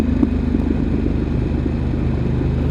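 Moonshiner 28 motorcycle engine in subdued highway mode, a steady low rumble holding even throughout at close range, with no voices.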